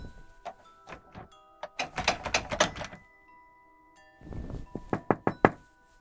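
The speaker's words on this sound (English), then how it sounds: "Suddenly, a series of knocks echoed through the stillness." Knocking on a door as a horror-story sound effect: several clusters of sharp, hollow knocks, a quick burst in the middle and another rapid series after a pause, with no voices.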